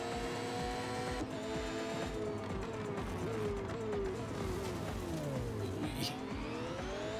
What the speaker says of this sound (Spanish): voy a dejar un ratito el sonido del coche.